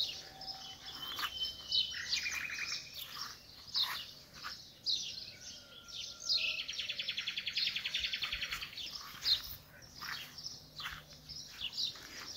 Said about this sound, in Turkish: kuşlarda her çeşit kuş var arkadaşlar